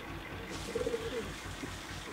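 Young racing pigeons in a loft: a brief, soft, low coo rises faintly over a steady background hiss.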